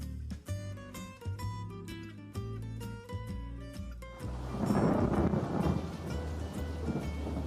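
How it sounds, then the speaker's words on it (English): Music plays for several seconds, then a rolling rumble of thunder and steady rain noise take over, fairly loud and continuous. "It is raining right now."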